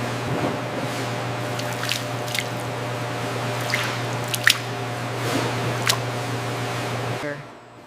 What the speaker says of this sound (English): Gravity causes additional whey to seep out, forming thin streams that run toward the drainage channels.